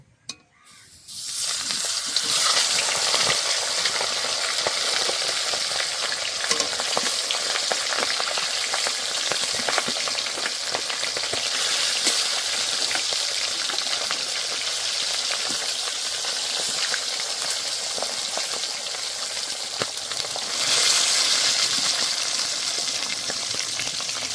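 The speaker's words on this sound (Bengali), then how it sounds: "তেল ভালো গরম হয়ে গেছে, এবার মাছগুলো দিয়ে দেব।" Rohu fish heads frying in plenty of hot oil, a loud, dense, continuous sizzle that starts abruptly after a brief quiet moment and holds steady, close up with no talking.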